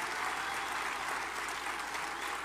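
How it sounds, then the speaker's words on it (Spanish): Steady, somewhat distant audience applause for Mexico City's head of government, Claudia Sheinbaum, at a public FONDESO credit handover event; an even roar of many clapping hands with no speech on top. "Démosle un gran aplauso a la jefa de gobierno, por favor"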